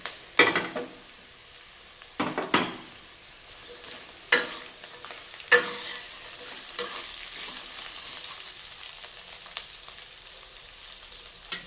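Potatoes and carrots sautéing in ghee in a pot for vegetable pulav, a soft steady sizzle broken by several sharp stirring scrapes and clatters of a spoon against the pan.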